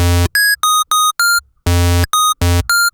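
Mono legato synth chords in an FL Studio project, played without the arpeggiator: bright sustained stacked-harmonic tones alternate with short gliding lead notes in a choppy repeating pattern, loud and dry with no voices.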